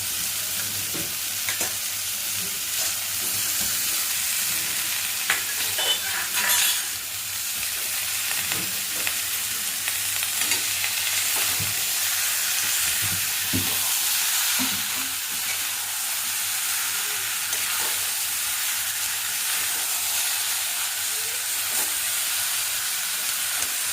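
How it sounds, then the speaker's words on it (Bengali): Tender young green jackfruit frying with spices in a pan in a village kitchen: a continuous close sizzle and hiss with scattered stirring scrapes and clinks, and no talk. "কচি এঁচোড় এমনি মশলার সাথে দিয়ে দিচ্ছি"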